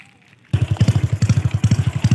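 A Honda Wave 110 motorcycle fitted with a straight-through racing exhaust starts up after a quiet moment and runs loud and close, giving a steady, rapid popping exhaust pulse with no talking.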